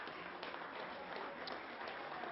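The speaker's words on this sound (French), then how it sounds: "Oui, on peut l'applaudir." Steady, muffled applause from an audience at a local televised artist showcase, a continuous hiss of many hands clapping at an even level, heard from a moderate distance.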